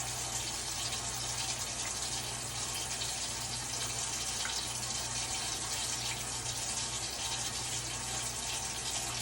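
Tap water runs steadily into a sink during handwashing, a continuous broadband gush that stays even and close throughout, with no voices.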